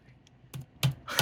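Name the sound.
typing on a computer keyboard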